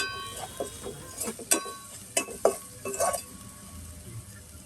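Mushroom and capsicum frying in a pan with salt, stirred in a handful of sharp scrapes and clinks of a spoon against the pan over a faint sizzle.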